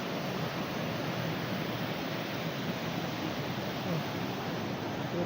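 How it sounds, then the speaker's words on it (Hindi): A mighty waterfall in Barot Valley roars as a dense, steady broadband rush with no pauses, close and constant throughout. "ये है वाटरफॉल, माइटी वाटरफॉल"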